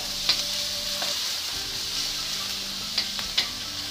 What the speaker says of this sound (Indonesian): Setelah minyak panas, tumis bawang putih dan jahe.